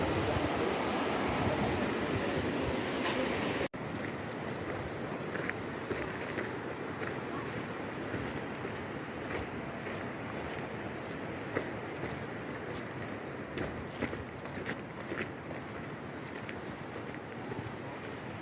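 River water flowing in Mustang, a steady broadband wash of moving water with wind-like rumble, loud and continuous throughout, briefly dipping near the start.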